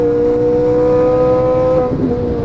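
A Ferrari 458 Italia being driven hard on a track, its engine holding a strong, steady, near tone as it pulls after an upshift, with a slight change in pitch toward the end.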